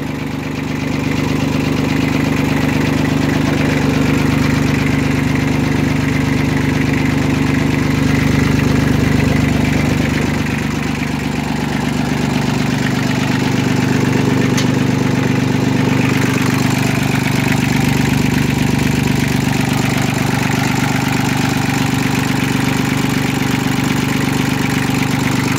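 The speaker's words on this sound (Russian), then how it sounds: "Двигатель работает чисто." A Japanese ISEKI mini tractor with a soil tiller attachment idles steadily, its diesel engine giving a loud, close, even chugging drone that holds for the whole stretch with only slight changes in tone.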